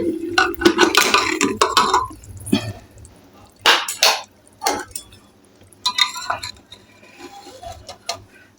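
A pressure cooker lid being opened after cooking chana dal, with metallic clanks, a scraping twist and brief clinks of metal cookware, close and intermittent with quiet gaps between.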